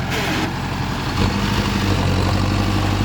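An Arjun 605 DI tractor engine, a large tractor fitted with an 8-foot rotavator, holds a steady 1600–1700 rpm: a loud, continuous low diesel drone with a slight rise in pitch partway through.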